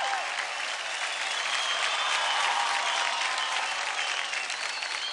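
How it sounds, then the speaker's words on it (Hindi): Loud, steady applause from a studio audience at a televised dance competition, dense clapping filling the whole stretch without a break. "जोरदार तालियां हो जाए डांसिंग स्टार मयूरेश के लिए"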